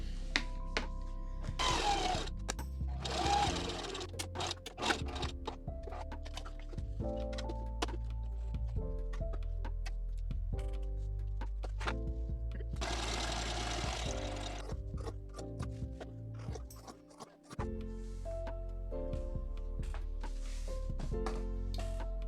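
A sewing machine whirs in steady bursts while stitching a bag lining, stopping and starting, with intermittent taps and clunks of fabric handling between runs.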